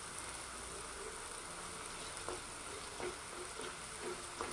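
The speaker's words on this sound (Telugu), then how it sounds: "మసాలాలు పచ్చివాసన పోయేంత వరకు ఫ్రై చేస్తూ ఉండాలి" Ginger-garlic and garam masala paste frying with turmeric in a pan for a fish fry gravy curry, a steady close sizzle with occasional soft crackles and stirring taps.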